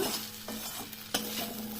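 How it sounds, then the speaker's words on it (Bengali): Spice paste fries in oil in a pan, a short steady sizzle with a couple of sharp stirring scrapes and a faint low hum, close and fairly quiet. "দেখো মশলাটা পুরো ভাজা হয়ে গেল"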